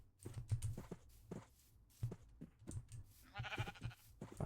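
Minecraft sheep let out a few faint bleats, mixed with soft footstep-like thuds and shuffling as the animals are herded in the block-building game.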